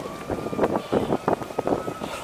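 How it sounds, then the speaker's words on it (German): Wind roar buffeting the microphone while riding an e-mountain bike on the Anninger, a steady rushing with irregular gusty bursts, loud and close throughout. "Wind."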